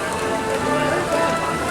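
Steady rain falls at the Magic Kingdom theme park, a dense close patter on surfaces filling the whole stretch without pause.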